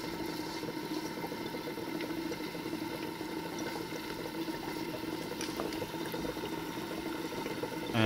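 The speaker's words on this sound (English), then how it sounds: "Carbon dioxide is coming through, and you can see what is happening with our lime water." Carbon dioxide gas bubbling steadily through lime water in a school chemistry test, a soft continuous low burble and fizz that stays even and fairly quiet throughout, with no talking.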